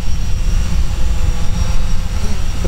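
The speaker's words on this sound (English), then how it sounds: "we'll bring the Typhoon H back. Bring it in for a landing." A Typhoon H drone flies in to land outdoors, its rotors giving a loud, steady buzzing drone that holds close and constant throughout, with no talking.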